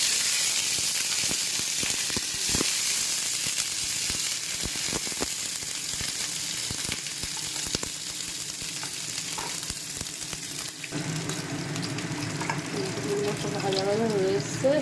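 Vegetables such as peas, beans, capsicum, tomato and cauliflower fry in hot oil in a kadai, giving a steady sizzle with stirring clatter, under intermittent talk before the sizzle changes near the end.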